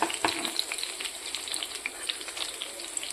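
Malabar spinach leaf pakoras in very hot oil give off a steady, close crackling sizzle with dense little pops all the way through and no voices.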